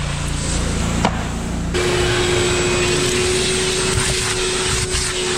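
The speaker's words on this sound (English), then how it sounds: "then just give the whole thing a vacuum" A vacuum cleaner runs steadily while cleaning a car interior, a continuous loud whooshing drone with a few knocks and a pitch shift partway through.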